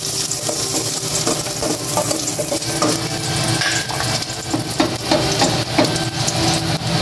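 Garlic fries in hot olive oil in a pan outdoors, a dense continuous sizzle with scraping stir strokes and light clinks of a utensil against the pan.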